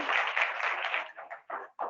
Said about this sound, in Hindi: ताली बजाएंगे सभी बच्चे।